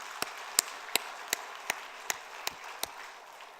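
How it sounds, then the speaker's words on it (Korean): A church congregation claps in praise at the close of a Christmas Eve sermon: eight sharp, evenly spaced claps in a slow, steady rhythm, fairly quiet against a faint background hiss, with no talking. "박수로 하나님께 영광 돌리겠습니다"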